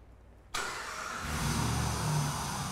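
Close up, a car engine cranks and fires abruptly, then runs steadily with a loud, even hum that grows a little louder and rougher as it settles toward idle.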